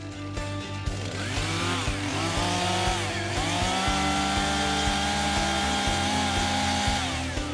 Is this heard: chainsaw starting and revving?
yes